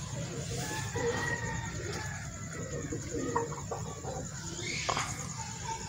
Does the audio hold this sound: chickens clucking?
yes